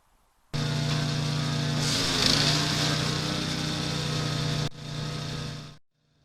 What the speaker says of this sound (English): It's just a matter of chucking it all through the chipper now.